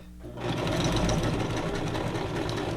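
A sewing machine with no speed control stitches continuously at full speed, starting with a brief low hum and then running loud and steady with a fast mechanical whir for the rest of the clip.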